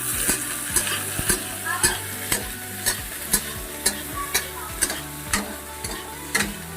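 Garlic, chillies and onion fry in a pan for kadhi in a home kitchen, with a steady sizzle. A spoon scrapes and stirs in a regular rhythm of sharp clicks, about two per second.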